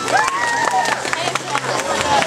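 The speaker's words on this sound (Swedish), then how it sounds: "Varm applåd! applåder." Audience applause at a Swedish bookshop cosplay show: a steady wash of clapping from a crowd, with a voice and faint tonal sounds running underneath.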